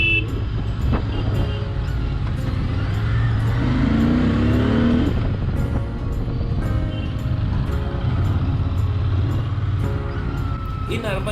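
Royal Enfield motorcycles climb a steep cliff road in the countryside, with steady engine drone and rumble throughout, laboring under the load, loud and close.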